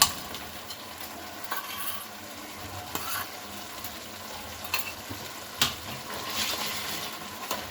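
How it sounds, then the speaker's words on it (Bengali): Jaggery being stirred into hot tomato pickle in a pan: a soft, steady sizzle with scattered scraping and clinking strokes of a spoon, up close and with no talking. "আমি এবার ভালো করে গুড়টাকে এর মধ্যে মিশিয়ে দেবো"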